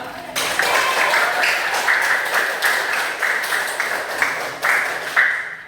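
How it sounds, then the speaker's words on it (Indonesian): Junior high school students clap together in class, a brisk continuous patter that starts abruptly, holds steady with rhythmic surges, and fades out at the end. "Tepuk tangan untuk kalian semua."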